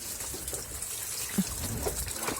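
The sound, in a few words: water draining from seedling tray into container below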